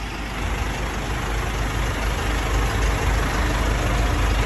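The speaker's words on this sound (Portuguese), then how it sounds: "Nunca gostei tanto de um caminhão guincho igual esse aqui." A tow truck's heavy engine idles nearby in a steady, loud low rumble with broadband mechanical noise, continuous and unchanging, with no talking over it.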